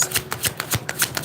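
Tarot cards being shuffled close by in short, rhythmic riffling bursts, several quick flutters repeating in steady succession with no voices.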